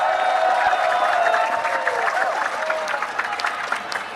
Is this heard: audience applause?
yes